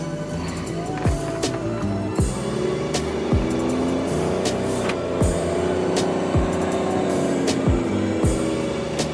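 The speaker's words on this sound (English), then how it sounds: "Just doing a little driving right now." Lifted truck with a Rough Country lift kit cruising on the road, a steady engine and road drone with rhythmic thumps from bumps or joints recurring every second or so, captured from inside the cab.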